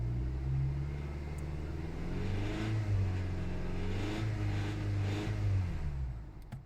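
A used car's check-engine-lit motor idles and revs with a steady, close, loud rumble and a rough rattling undertone, swelling slightly mid-way before easing off; no voices.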